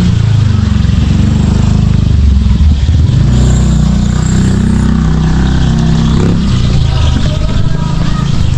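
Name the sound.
motorcycle engine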